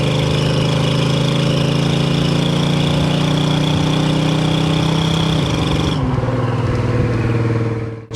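A 1971 Ford Torino 500 on a test drive, its engine giving a loud sustained rumble with a steady drone that shifts in pitch as the car accelerates and changes gear, heard from inside the car with no talking.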